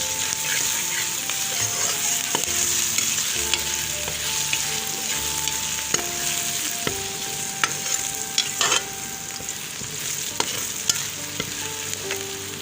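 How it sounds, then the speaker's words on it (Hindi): Steady sizzling of garlic-ginger paste frying with onions in a pan, with occasional stirring clinks and scrapes throughout. "ये लहसुन अदरक का पेस्ट शामिल कर रही हूँ।"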